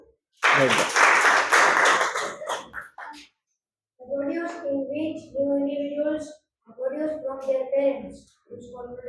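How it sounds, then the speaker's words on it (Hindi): A short burst of clapping from a group of schoolchildren in a classroom lasts about two seconds, followed by a teacher's voice speaking in a quiet room. "वेरी गुड, ताली बजाओ।"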